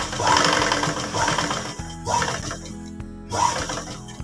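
A sewing machine stitches a zipper onto a fabric pencil pouch, running in several short bursts of rapid mechanical clatter separated by brief pauses, close and fairly loud, with no talking.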